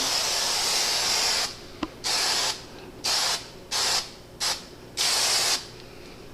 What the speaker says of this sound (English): Spraying a little bit upside down here so the glue doesn't want to come out quite as well